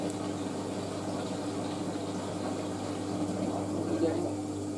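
A washer dryer on its drying cycle pumps water through the condenser and out the drain, giving a steady, continuous whirring and gurgling hum at moderate level, with some speech-like sound over it.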